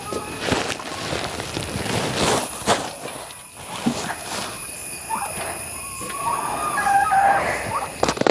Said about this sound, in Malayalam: ഇതൊക്കെയാണ് നമ്മുടെ ഇവിടെയുള്ള കോഴികളൊക്കെ